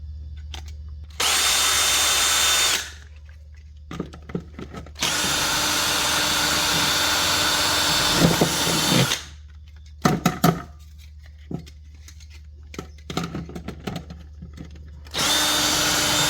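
A power drill bores holes through the inner metal part of a cover in several loud, whining bursts, separated by quiet pauses with small clicks and handling noises.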